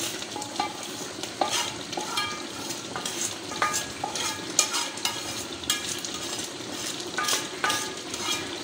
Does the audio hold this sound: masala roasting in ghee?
yes